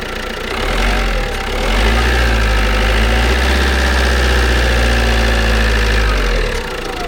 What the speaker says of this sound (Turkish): Gaz ver, gaz ver